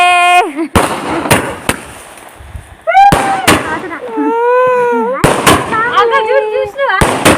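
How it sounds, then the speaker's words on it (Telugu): Firecrackers burst loudly and near at a birthday celebration, a series of sharp explosive cracks spaced through the scene while people shout and talk excitedly in between. "బాంబులు ఎగుతున్నాయి"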